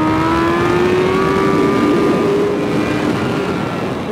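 Loud, continuous engine whine from a 2021 Honda CBR1000RR-R Fireblade SP on a race track, pitch holding high and shifting slightly as it accelerates, with no voices.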